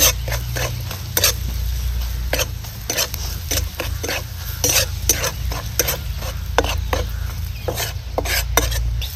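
Spiced bhadang chivda mixture of puffed rice being stirred and roasted in a pan, with steady close scraping strokes repeating in a quick rhythm over a soft continuous sizzle.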